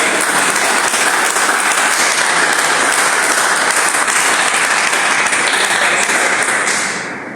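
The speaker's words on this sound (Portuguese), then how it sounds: "dê uma salva de palmas para Jesus" A church congregation applauds together, a loud, dense, steady wash of clapping that holds evenly throughout before tapering off at the very end.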